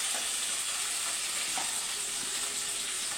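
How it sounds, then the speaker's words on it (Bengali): Spice masala frying in a pan with a whole onion gives a dense, steady hiss-like sizzle, close and unbroken, with only faint clicks. "মশলাটাকে ফ্রাই করব"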